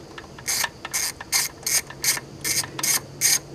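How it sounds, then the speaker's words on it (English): Ratchet with a 10 mm socket turning throttle body bolts on a Jeep 4.0L engine, eight crisp rapid clicking bursts in a steady back-and-forth rhythm, close and clear with no talking. "10 millimeter socket will do it"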